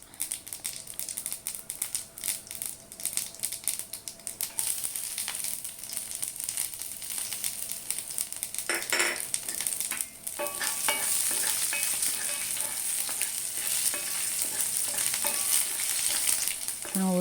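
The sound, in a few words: spices spluttering and roasting in a pan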